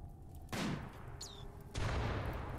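Gunfire in RimWorld, with colonists shooting at a mountain, arrives as two sharp bursts of shots, each followed by crackling decay, under a faint hum.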